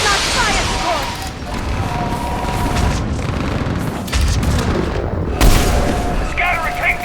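Fire-support explosions rumble through a Mass Effect 3 battle, with heavy booms and sharp blasts landing repeatedly under shouted voices, one loud hit standing out near the end.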